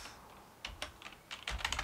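Fingers type code on a computer keyboard, a handful of quiet, quick key clicks in short irregular bursts close to the microphone.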